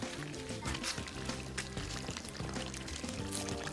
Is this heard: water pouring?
yes